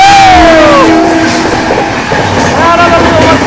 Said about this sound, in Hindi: वो देखो हॉकिंग देते हुए आ रही है तेजस राजधानी